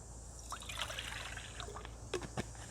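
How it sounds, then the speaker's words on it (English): Water is poured into coffee at an outdoor fire-cooking setup, giving a light, steady trickle under quiet background noise, with a couple of brief clinks near the end. "pour some water into the coffee"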